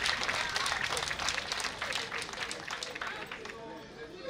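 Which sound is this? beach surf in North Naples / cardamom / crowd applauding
crowd applauding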